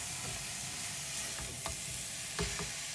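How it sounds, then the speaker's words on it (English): Onions and carrots cook down in a pan for South African chakalaka, giving a steady broadband sizzle with a few sharp utensil clicks and scrapes, close and moderately loud, with no talking. "We're just letting our onions do their thing. And the carrots cook down a bit."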